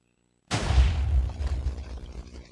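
A single TNT cannon blast in Minecraft, with a sudden loud boom after half a second of silence, then a rumbling tail that slowly dies away.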